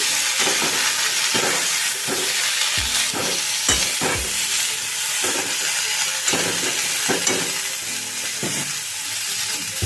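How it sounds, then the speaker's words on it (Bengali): Flat beans with turmeric sizzle gently in a pan over a low flame as a utensil stirs them in irregular scraping strokes. The hiss is close and continuous, and no one speaks. "এবারে এটাকে একটুখানি নাড়াচাড়া করব ফ্লেমটা লো করে দিলাম"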